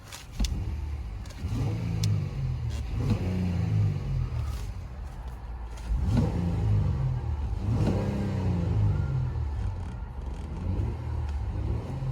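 A 2019 Honda Pilot EX engine idles and is revved several times, each rev rising and falling in a smooth sweep over a steady, close engine drone with no talking.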